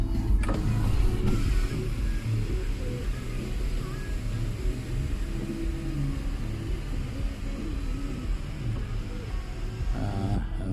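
The electric sunroof motor of a Mazda Tribute 3.0 V6 whirs continuously for about ten seconds under a low cabin rumble. Clunks near the start and the end mark the roof starting and stopping, and a brief voice can be heard early on.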